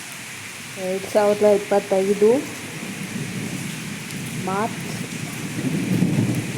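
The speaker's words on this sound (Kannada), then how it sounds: "ಇಲ್ಲಿ ನೋಡಿ ನಮ್ಮ ಚಿಂತಾಮಣಿಯಲ್ಲಿ ಯಾವ ಥರ ಮಳೆ ಆಗ್ತಿದೆ ಅಂತ" Heavy rain pours down in Chintamani, a dense steady hiss with low rolling thunder beneath it; a voice speaks briefly near the start.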